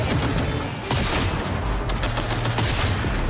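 Sustained gunfire in Cyberpunk 2077 Phantom Liberty, a player shooting at a railing during a fight with a mech: dense, continuous bursts with low booming thuds, loud and close throughout, no talking.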